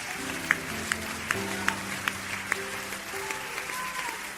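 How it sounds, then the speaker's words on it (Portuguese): Congregation applauding in a church during a sermon, a steady wash of clapping with a few sharper individual claps standing out, while a sustained musical tone hums underneath throughout. "Vamos aplaudir aquele que é o único digno de honra, glória e louvor."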